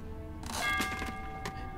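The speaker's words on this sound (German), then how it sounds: "Ach, hier ist eine Klingel." A doorbell in Metro 2033 gives a short tonal ding with a ringing tail and a second faint strike about a second later, over quiet background ambience.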